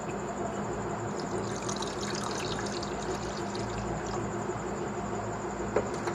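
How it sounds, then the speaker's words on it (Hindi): Water trickles and pours steadily into a bowl while a lemonade drink is being made, a continuous close splashing wash with no voices. "अब हम इसके अंदर पानी डालेंगे 1 कप"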